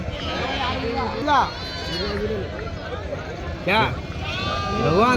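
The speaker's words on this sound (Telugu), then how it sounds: "వచ్చేసి యాభై గొర్రెలు ఉన్నాయంట" At the Pebbair sheep market, several sheep let out loud, wavering bleats in close bursts. People talk and a crowd murmurs underneath.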